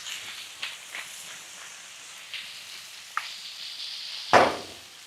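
A ribeye steak sizzles steadily on a Weber Slate 36-inch griddle outdoors, a continuous hiss broken by a few sharper crackles and one loud pop near the end, with no talking.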